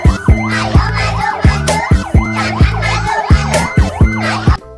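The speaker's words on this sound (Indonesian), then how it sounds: "kalau yang ini adalah truk pemadam kebakaran yang siap siaga" A fire truck siren wails in repeated wavering sweeps over rhythmic blaring horn blasts, loud and close, with no pause.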